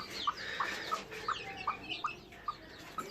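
A broody Silver Sebright hen clucks softly in a steady, evenly spaced series of about eight low, close clucks, alone and without other sounds.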